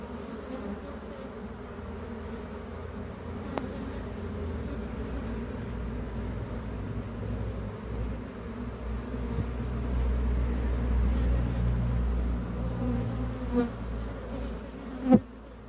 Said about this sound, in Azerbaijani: arılar öz yuvalarına belə tez tələsi gedirlər